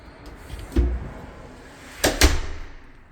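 A large wooden front door on a cold day is closed and locked: a heavy thud, then a pause, then a pair of sharp knocks and clunks from the lock, heard close with no talk.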